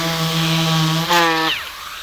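A loud, steady orbital sander whine on wood with a strong buzzing hum runs for over a second, then cuts off and winds down abruptly.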